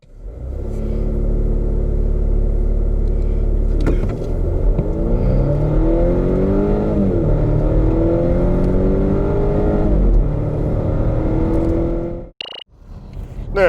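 A 2021 Volvo V90 Cross Country with a 2.0L engine and mild hybrid system accelerates hard, its loud engine note climbing through several rising gear pulls before easing off near the end.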